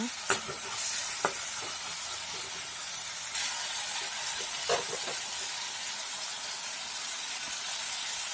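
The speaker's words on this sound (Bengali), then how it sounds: "লবণ দিয়ে ভালো করে ভেজে নেব।" Tomatoes with salt fry in a pan over steady, even sizzling, with a few sharp clicks and pops from stirring.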